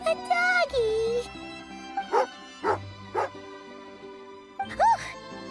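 Tagarin, a dog in the video game Genshin Impact, gives loud, close barks and yips, mixed with whining, drawn-out tonal cries over a steady game music bed, with short gaps between outbursts.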